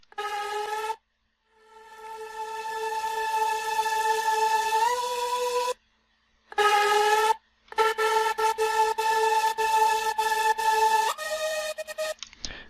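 An atmosphere synth layer holds sustained, choir-like tones whose pitch is automated to follow the lead. Stretches of tone are broken by abrupt gaps and staccato chopped bursts, with no voices.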